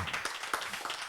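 A small audience claps steadily to welcome a couple at a lecture, in a short, even burst of applause.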